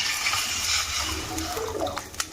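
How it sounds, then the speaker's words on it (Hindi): Water poured into a pot of white chicken biryani, a steady splashing gush of liquid running continuously and fairly loud throughout. "1 लीटर पानी डालिए।"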